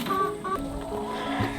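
Farm chickens near a mobile coop give a couple of short, clear clucks over a steady background murmur, close and moderately loud.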